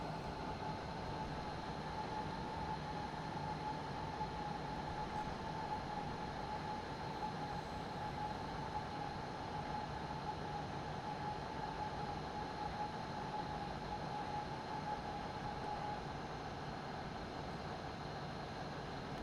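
An RE30 regional train on the Pegnitztalbahn toward Nürnberg braking to a stop, a steady low rumble with a faint sustained tone, even and continuous throughout.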